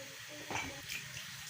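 A pot of salted water for boiling rice bubbles at a steady simmer, a soft continuous wash of burbling with a couple of brief louder surges, close and without talk.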